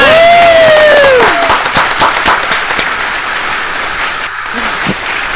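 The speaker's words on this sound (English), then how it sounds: "Everybody give her a big round of applause." Studio audience on a talk show breaking into applause and cheers, loud crackling claps at first that thin out, with a rising whistle-like tone near the start.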